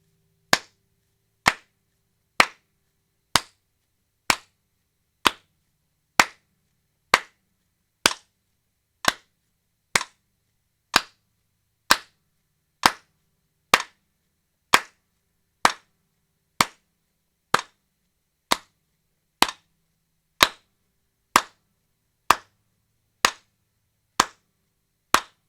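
Single sharp hand claps land at an even steady pulse, about one per second, in a quiet room during rhythm practice for alternate guitar picking, each crisp and close with near silence between.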